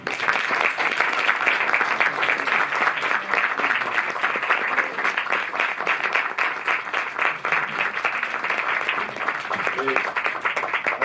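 A cinema audience in Paris applauds three guests at a film presentation, a dense, steady wash of clapping sustained throughout at full volume, with some voices mixed in.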